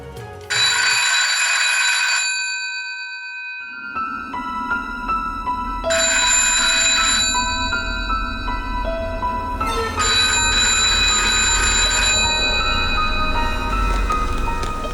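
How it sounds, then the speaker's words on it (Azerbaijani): A phone ringtone rings loud and close in repeated melodic bursts separated by short gaps, with a low background hum underneath. "Açıq heç bilmirəm, o zəngi açmalıyam yoxsa yox."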